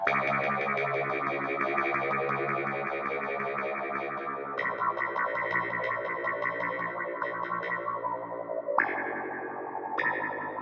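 A Yamaha Reface CP keyboard plays sustained electric-piano chords through a reverb effect, the tone shifting as settings change partway, with a brief bump near the end; no talking over it.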